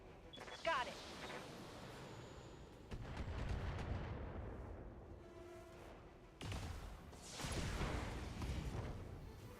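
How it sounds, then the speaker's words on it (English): Short-range missile volleys exploding in the Battletech video game: a burst of cracking blasts followed by rumbling, rolling detonations, a quieter lull, then another loud volley of booms, all fairly faint and dense. "Short range missiles here. Let's just blow this thing up, shall we?"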